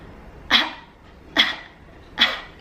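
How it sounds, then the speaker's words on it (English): Three sharp forced coughs from the mouth, evenly spaced about a second apart, each a short burst of breath exhaled as a breathing exercise, close and clear with quiet between. "put your hand in front of your mouth and cough"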